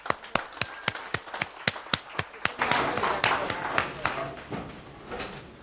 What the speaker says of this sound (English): Let us applaud.